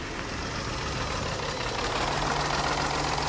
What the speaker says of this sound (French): Donc c'est un 3 cylindres PSA et là il a des ratés, il tourne mal.